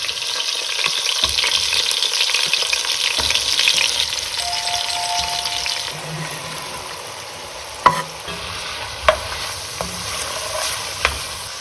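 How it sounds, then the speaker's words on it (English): Vegetables frying in hot olive oil in a pan as they are stirred for Tuscan bean soup; a steady, bright sizzle that eases partway through, broken by a few sharp clicks and knocks of a utensil. "I got the higher heat now, and I'm going to stir it, otherwise it burns."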